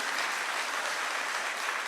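Dense, steady applause from a large rally crowd welcoming Rahul Gandhi in Srinagar, a loud wash of many clapping hands sustained evenly throughout with no voices on top.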